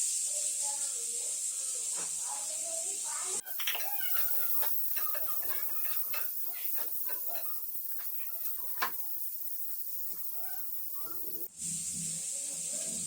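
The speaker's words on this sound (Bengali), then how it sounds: "কুচি করা পেঁয়াজটা দিয়ে দেবো" Chopped onion hits hot oil in a home kitchen pan and gives off a loud, steady hiss. Talk takes over in the middle, then the sizzling returns strongly near the end.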